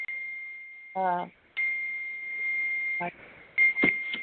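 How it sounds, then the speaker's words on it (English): A phone notification sounds as a steady electronic tone with repeated beeping bursts and pitch jumps, loud and close, continuing for several seconds with no speech over it. "My phone is dinging."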